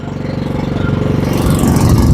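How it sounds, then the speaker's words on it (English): The engine of a Rippa NDI625 mini excavator runs with a rapid low thudding idle that grows louder and rougher as it revs up, close and steady with no talk. "first, pull out the choke, start the engine"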